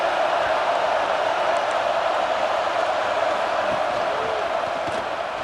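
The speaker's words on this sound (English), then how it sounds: "this crowd trying to help keep them there" Stadium crowd in the college football game EA Sports College Football 26: a steady, broad roar of a large crowd holds at an even level throughout, dense and continuous, with faint commentary-like speech underneath.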